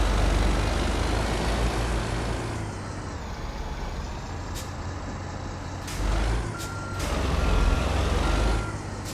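A Kenworth W900 semi truck reverses with a steady backup beeper sounding over a low diesel rumble, with a few short hissing bursts partway through.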